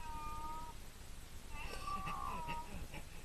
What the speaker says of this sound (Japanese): 猫吠えたくっとんの